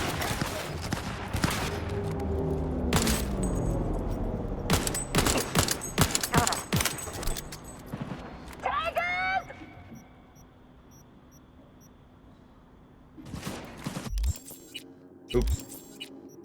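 Heavy weapon fire in Cyberpunk 2077 comes as sharp, punchy single shots and short bursts spaced irregularly, with quieter stretches of ambient game sound between them and someone talking over parts of it.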